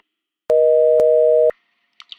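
A single steady electronic answering-machine beep follows the outgoing greeting on a home telephone answering machine, one clean sustained tone about a second long, loud and close, with no talking over it.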